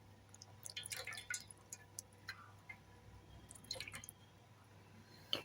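Water drips and splashes while a Narayan idol is bathed, with scattered light drops and small trickles close by, quiet and irregular over a faint steady hum.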